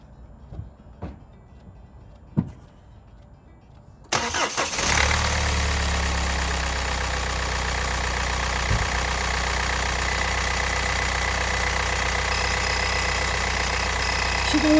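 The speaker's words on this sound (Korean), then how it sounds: "이번에는 시동 걸고 어느 정도까지 유지되는 거 한번 보겠습니다. 시동 걸어 보겠습니다." A diesel car engine started in winter after a few faint clicks: a sudden crank and catch, then a loud steady close idle that continues evenly to the end.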